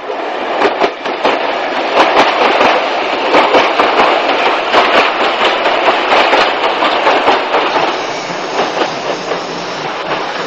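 A steam locomotive pulling a special train rumbles steadily along double track, loud and close, with continuous clattering wheel clicks and rushing noise throughout.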